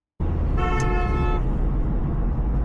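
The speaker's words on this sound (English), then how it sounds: "People are driving and honking all crazy." A loud car horn blares for under a second over a constant close roar of heavy road traffic, with the traffic rumble continuing after the honk and no one talking.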